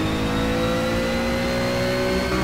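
Ginetta GT4 race cars in Project CARS roar at high revs, a loud, continuous buzzing engine tone with steady harmonics running through the whole moment.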